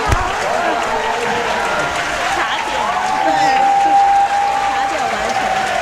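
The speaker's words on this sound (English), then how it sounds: "And that is as big a cheer as the first people who finished this puzzle." Crowd at a jigsaw puzzle competition cheering and applauding as a team finishes, a loud sustained wash of clapping and shouts throughout.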